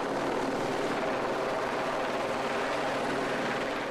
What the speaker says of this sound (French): c'est par hélicoptère que se fait l'évacuation